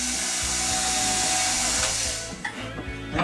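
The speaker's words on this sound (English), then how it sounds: "Drill a hole." A power drill whines steadily at high speed, then slows and sputters near the end as it finishes boring through.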